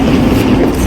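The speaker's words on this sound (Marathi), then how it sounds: "आमची दुसरी ट्रेन पण आली." A train pulls into a station with a dense, steady low rumble and mechanical hum that stays loud and continuous for the whole second, with no voices.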